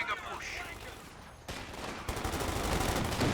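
Bursts of machine gun fire in the Company of Heroes 2 strategy game, dense rattling volleys that swell louder toward the end, with a commentator's voice faintly under the shooting.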